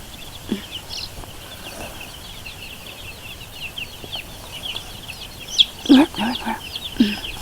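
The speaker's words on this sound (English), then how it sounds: "Cute little chicken." Small meat chickens make soft clucks and chirps, scattered and fairly close, with a denser cluster of calls near the end over a faint steady background.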